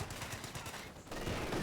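MG42 machine gun fire in Company of Heroes 2 rattles in a steady rapid rhythm amid dense, continuous battlefield noise.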